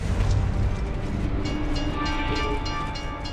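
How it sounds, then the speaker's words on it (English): In Gears of War 3, a train rumbles loudly through a tunnel, a dense steady roar with faint metallic clatter and no voices over it. "It's a bloody train coming the other way!"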